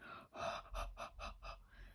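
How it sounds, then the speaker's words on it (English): Heavy breath blown onto a rubber stamp during a stamping craft session: a series of about five short, close, breathy puffs in quick rhythm, fairly quiet, with no talk. "Heavy breathe on it."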